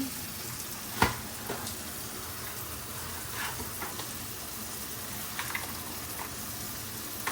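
Minced meat sizzles and crackles in a pan while being cooked for lasagne, a steady close frying hiss with occasional sharper pops and stirring scrapes.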